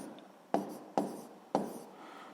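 Writing out a seventh-grade physics solution by hand gives three crisp pen or chalk taps and short scratches, close and quiet, with no talking.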